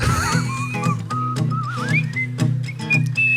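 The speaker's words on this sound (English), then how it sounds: "I don't think he can talk while he's whistling" A man whistles a lively, wavering melody, close and fairly loud, with rhythmic music or low tones pulsing underneath.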